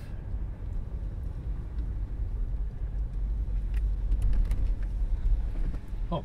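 A car pulls away on a wet day after rain, its low engine rumble and tyre hiss on damp road steady and close, growing slightly louder, with no talk.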